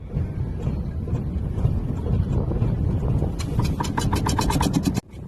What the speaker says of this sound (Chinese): 现在机器也启动了啊，然后准备过去拉网了。